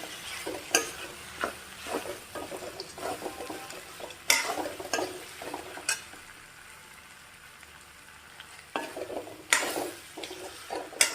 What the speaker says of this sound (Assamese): প্ৰায় 1 মিনিটমান মই ভাজি লওঁ ভালকৈ।